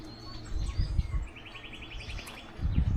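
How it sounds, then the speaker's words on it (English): Wild birds chirp and sing outdoors on undeveloped land in Kitisuru, Kenya, with a quick run of repeated high tweets and scattered calls over low rumbling background noise. "There's so many birds around this area."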